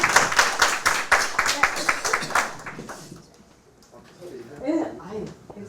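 Indoor audience at a risk-management lecture claps in a brisk burst of applause for about three seconds, then it fades into quiet room sound with a few murmured voices.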